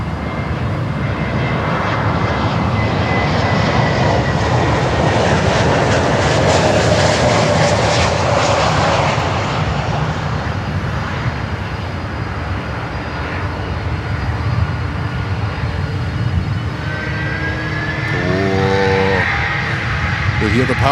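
ABX Air Boeing 767 jet engines roar in a loud, sustained, broadband rumble that swells and holds steady, with voices faintly underneath.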